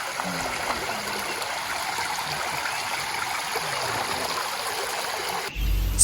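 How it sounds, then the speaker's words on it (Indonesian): A river stream burbles steadily at dawn at a camping ground in Ciwidey, Bandung, a continuous close trickling rush that ends in a brief bump of handling noise. "menikmati subuh-subuh di sini nih dan dengan suara alam gemericik sungai yang syahdu banget"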